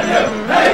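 A crowd at a gaming tournament crew battle sings together, a loud, dense wash of massed voices swelling briefly in under a second.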